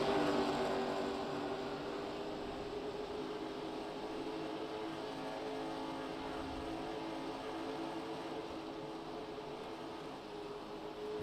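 Race cars lapping Iowa Speedway during a championship race, a steady, loud roar of engines that holds evenly throughout, with no voices.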